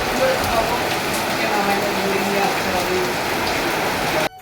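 Steady, dense rainfall hisses continuously and fairly loudly, with soft voices murmuring underneath, then cuts off abruptly near the end.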